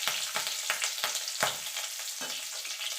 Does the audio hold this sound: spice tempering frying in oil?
yes